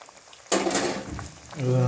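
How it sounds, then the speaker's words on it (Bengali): Mustard hilsa curry with mustard paste bubbles in a pan on a gas stove, a sudden burst of boiling starting after a quiet moment and continuing, with a voice briefly rising near the end. "আরও কিছুক্ষণ ফুটিয়ে নেব দেখুন খুব সুন্দর ফুটে উঠেছে"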